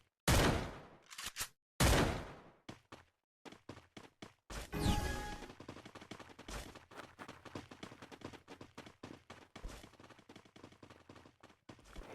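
Video game MP5 gunfire crackling in several short bursts and scattered single shots, sharp and fairly close, with gaps between volleys and no talking.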